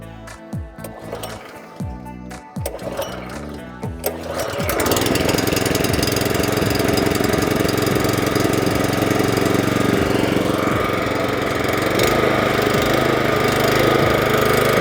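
A California Trimmer Catalyst gas-powered reel mower engine sputters through a few uneven low-speed beats, then revs up to a loud, steady full-throttle roar that holds close by with a slight shift in pitch partway through.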